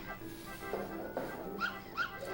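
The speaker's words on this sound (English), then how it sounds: "so why is he chucking puppies?" Puppies yelp in the 16-bit platform game Earthworm Jim 2: short high whimpers and yips that repeat a few times. They sound faint and small over the game's background noise.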